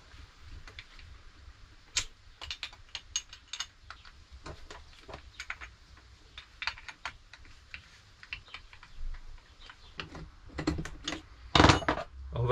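A wrench loosens the casing screws of an air compressor with sparse, sharp ticks and metallic clicks, close and quiet, ending in a brief louder rattle.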